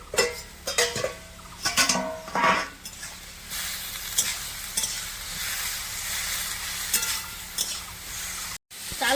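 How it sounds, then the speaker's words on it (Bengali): Ash gourd leaves (chal kumro shak) fry in a pan with a loud, continuous sizzle, punctuated by scraping and clattering strokes of a stirring utensil against the pan, nearby and without talk. "চাল কুমড়োর শাকটা হালকা করে কষে নিয়েছি"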